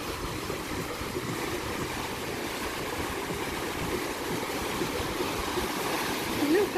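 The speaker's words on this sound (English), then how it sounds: "Look at the waves." Ocean waves near a port wash in a steady, broad roar that stays fairly loud and constant, with a slight swell toward the end.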